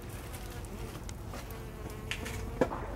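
Faint buzzing of insects drifts in and out against a quiet outdoor background, with a few brief clicks and knocks.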